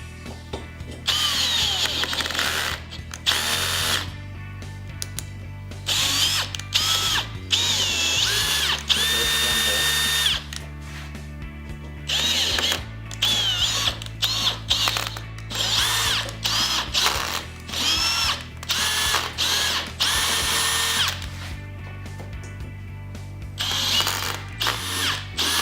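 A power drill with ratcheting action cuts into a pocket door track, a loud sustained whine with shifting pitch, broken by short pauses and rattling clicks, no talking.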